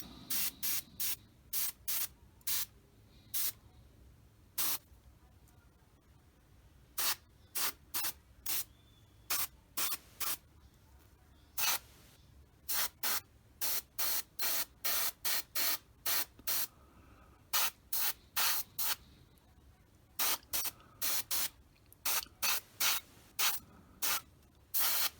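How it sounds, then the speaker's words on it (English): Short bursts from a spray can or airbrush apply coating to a Tamiya 1/48 F4F-4 model aircraft. Dozens of sharp hissing puffs come in irregular clusters, close and crisp, with no talking. "Alright, so let's spray a little bit more on here."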